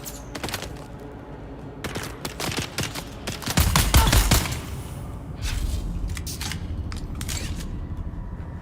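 Gunfire bursts from a shooter game set in the desert sands of Arrakis in Dune, with a dense rattling fusillade of rapid shots peaking in a loud thumping volley midway, then scattered shots and mechanical clatter continuing.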